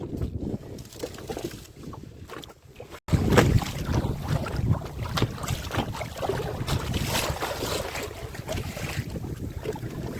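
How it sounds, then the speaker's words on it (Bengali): Strong wind buffets a small fishing boat out on the water in the Sundarbans, a loud, rough, continuous roar close to the microphone that swells sharply after a brief lull. "প্রচণ্ড হাওয়া ছেড়ে দিয়েছে"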